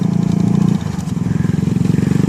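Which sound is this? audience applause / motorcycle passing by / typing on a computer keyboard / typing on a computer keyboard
motorcycle passing by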